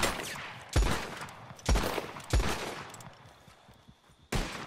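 Gunshots in Red Dead Redemption 2, four sharp reports spaced about a second apart with echoing tails, fairly distant and quiet, no talking.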